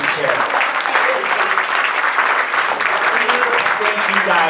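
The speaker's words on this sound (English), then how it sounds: "just a huge round of applause for you guys" Loud, sustained applause from an audience at a chapter retreat presentation, steady clapping filling the whole stretch with some voices mixed in.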